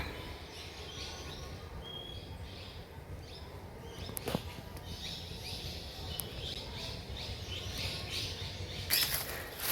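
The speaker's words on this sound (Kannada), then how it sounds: "ಪಕ್ಷಿಗಳ ಚಿಲಿಪಿಲಿ" Faint, scattered bird chirps sound over a steady outdoor hum near a riverside Hindu temple in Kasaragod, Kerala, with a few brief sharper calls late on.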